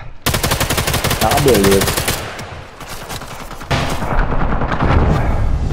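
Rapid automatic gunfire rattles loud and close in a Sniper Elite 5 multiplayer deathmatch, a long burst, a short pause, then another extended volley, with someone talking briefly between shots.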